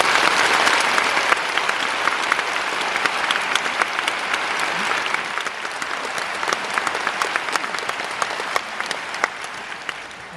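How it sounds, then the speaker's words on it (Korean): A concert hall audience claps steadily to welcome opera singers, sustained, even applause throughout with sharp individual claps standing out, no voices over it. "큰 박수로 맞이하겠습니다."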